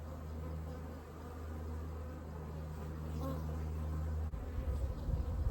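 Honey bees from a large, healthy hive removed from a spa motor vault in hot Tucson, Arizona, hum in a dense, steady buzz close by, with a few stronger individual passes and a low rumble near the end.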